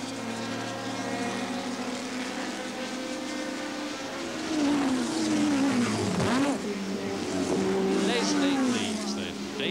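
Race cars on the first lap of a 30-lap, 78.4-mile endurance race: engines drone and whine with rising and falling pitch as cars pass nearby, under a commentator talking throughout.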